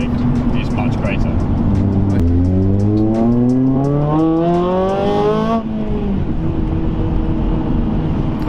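A Honda Civic FN2 Type R with a modified exhaust and intake revs loudly up close, its engine note climbing steadily for several seconds before dropping back, then idling on.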